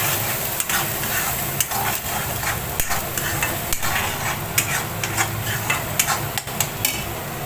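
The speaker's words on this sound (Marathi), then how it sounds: "वाटण टाकायचा तो असं समजून चांगला परतून घ्यायचा" A ground spice paste is sautéed and stirred in a pan for a mackerel dish, giving a continuous sizzle punctuated by regular scraping and clinking strokes of the spoon, close and fairly loud.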